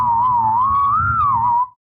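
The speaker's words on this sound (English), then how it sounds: "I can whistle 2 notes at the same time" A person whistles two notes at once, a steady, slightly wavering tone held close and loud for under two seconds before stopping abruptly.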